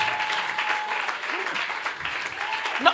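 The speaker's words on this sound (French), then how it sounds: "Acclamez Jésus pour elle" A church hall audience claps steadily in a sustained burst of applause, moderately loud, with a voice calling out over it.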